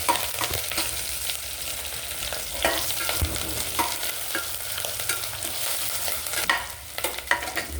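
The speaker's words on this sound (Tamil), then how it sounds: "வெங்காயம் வதங்கணுமே" Onions being sautéed for mutton gravy in a pan, a steady close sizzle of frying with repeated scraping stir strokes running throughout, no voices.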